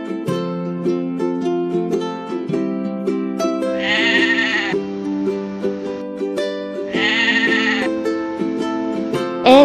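A goat bleats in two long wavering cries over a bouncy synthesized melody, loud and close.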